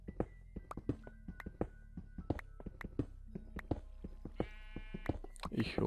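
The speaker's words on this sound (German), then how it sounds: "Das war ein Schaf." Sheep bleating in the video game Minecraft, a short bleat near the end over a string of dull game thunks and steps, with talk running through.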